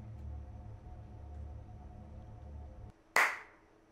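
A single sharp, loud clap in a dark, tense video game scene bursts out suddenly after a low, murky ambient drone and a brief hush, then decays quickly.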